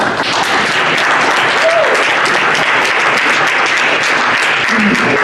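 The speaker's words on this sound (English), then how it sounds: "This lady and Karen absolutely need a round of applause from everybody for what they do" A steady round of applause from the audience at a county commission meeting carries on loud and unbroken for several seconds, a few faint tones showing through but no talk.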